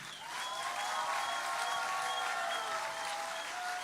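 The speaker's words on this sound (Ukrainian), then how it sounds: "Поаплодуємо їй." Sustained applause from a festival audience in Kholodny Yar, Ukraine, steady and fairly dense throughout, with a faint tone ringing underneath.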